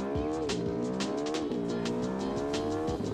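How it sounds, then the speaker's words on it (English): A simulated car engine in BeamNG.drive revs hard and steadily, rising and falling through repeated gear shifts. It is loud, close and sustained, with faint tire squeal mixed in. "Is this a stock engine noise in beamng.drive?"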